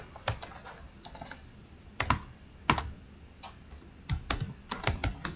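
Keys on a computer keyboard tapped in short irregular bursts, with crisp clicks clustered in quick runs and brief pauses between them, close and fairly quiet with no talk.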